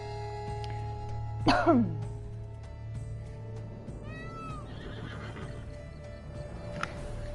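A horse whinnies once in Witcher III: Wild Hunt, a short descending neigh over a steady game ambience, followed by quieter soft sounds.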